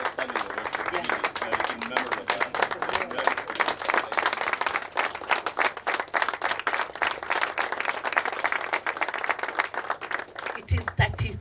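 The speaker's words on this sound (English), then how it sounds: "Please give a clap to the bishop." Sustained audience applause at an outdoor Wangari Maathai Day celebration in Karura Forest, Nairobi, honoring a bishop; dense, steady clapping from a sizeable crowd that continues for several seconds before tapering near the end.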